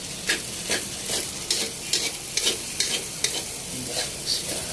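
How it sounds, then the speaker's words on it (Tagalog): Overload sinangag, garlic fried rice seasoned with oyster sauce and salt, is stirred in a hot pan, with repeated scraping strokes over a constant sizzle. "Tapos halo-halo guys, halo-haloin natin para kumalat yung oyster sauce at saka yung asin."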